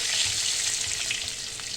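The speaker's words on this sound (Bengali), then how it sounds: "ওই তেলে আমি বেগুনটাও ভেজে নিচ্ছি" Plain unseasoned eggplant pieces fry in oil in a pan, giving a steady, close, bright sizzle with faint crackles and no talking.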